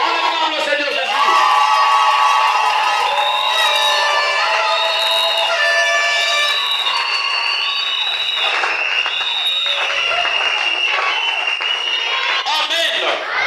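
A crowd at a church campaign cheers and acclaims, a sustained, loud roar of many voices with high shouts, whoops and ululations, clapping mixed in throughout.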